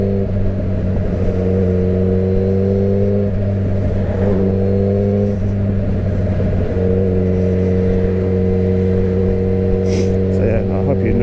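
A Yamaha XJ6 motorcycle engine drones steadily and loudly throughout a test ride, its strong humming tones shifting slightly in pitch as the throttle changes.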